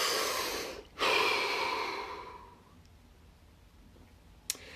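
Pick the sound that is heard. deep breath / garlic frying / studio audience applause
deep breath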